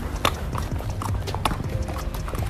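Horse hooves clip-clop in a quick, steady rhythm, loud and close, with no talk over them.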